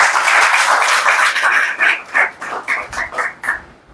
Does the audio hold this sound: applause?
yes